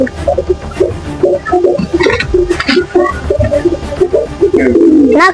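Pet pigeon cooing close by, with repeated throaty coos in short bursts and a faint clink of dishes in the background.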